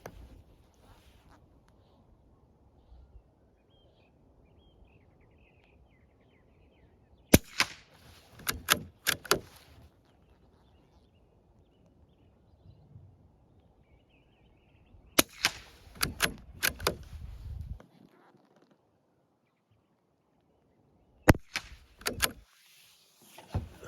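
Rapid gunfire from a rifle fitted with a digital night-vision and red-dot sight comes in three separate quick bursts of sharp cracks at moderate distance, with long quiet stretches between them.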